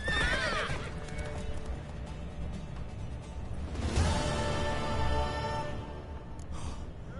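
A horse whinnies loudly near the start and again midway, with snorting and hoof clatter beneath, like game sound effects.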